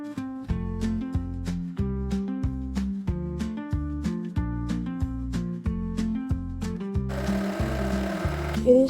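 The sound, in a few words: sewing machine stitching fabric in a diagonal line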